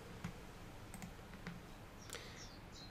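Several faint, crisp clicks from a computer mouse are spread out one at a time over a low background hiss, with no talking.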